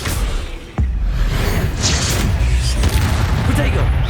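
A spell being cast in the video game Hogwarts Legacy, heard as a sudden booming impact with a whooshing, mechanical magical burst that rings on under a steady layer of game ambience and other combat effects.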